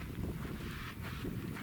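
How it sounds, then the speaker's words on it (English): Wind blowing across an open outdoor archery range during compound bow sighting, a steady broadband rush with mild gusts and microphone buffeting, continuous and fairly close, with no talking. "I got a wind coming over a little bit."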